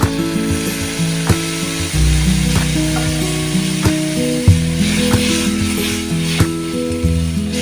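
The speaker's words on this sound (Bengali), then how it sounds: "মশলাটিকে ভালো করে কষানো হয়ে এলে এতে আবারও একটু জল দিয়ে দিতে হবে।" Spice paste frying in a pan for an egg curry, with a loud, busy sizzle, steady stirring and repeated scraping clicks of a spatula against the pan throughout.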